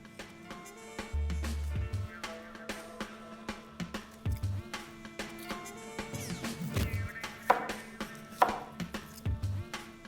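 Vegetables and cheese for homemade burgers are chopped on a board, a string of knife knocks that is irregular but steady over background music, with no voices.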